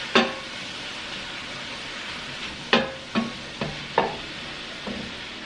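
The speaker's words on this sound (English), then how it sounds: "Just stir this up." A spoon stirring chicken carbonara sauce in a pan gives a handful of faint, scattered scrapes and taps over a quiet background.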